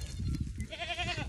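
Goats bleat near a two-strand poly wire fence on a farm, one short wavering bleat rising over rustling and movement close by.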